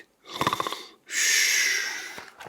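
A brown bear snoring while curled up asleep through a cold winter night: a rough, rhythmic snoring breath, then a long, airy hissing exhale, close and fairly loud with no talk.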